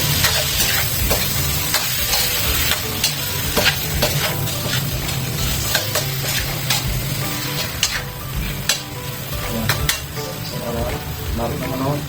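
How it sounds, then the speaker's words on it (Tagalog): Chicken adobo seasoned with pepper and bay leaves is stirred in a pan, a loud continuous sizzle with scraping stir strokes running throughout, close and dense. "Haluin mo. Haluin ulit natin."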